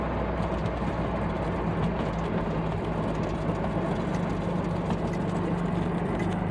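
A 1980 Triumph TR7 engine runs steadily while the car drives on tyres with flat spots, producing a continuous low, rumbling drone with road noise and no talking.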